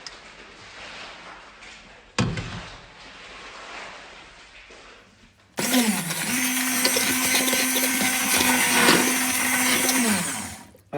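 Blender whizzing up cooked soup in a kitchen, starting with a sudden loud motor whir that holds steady for about five seconds at close range after quieter handling noises.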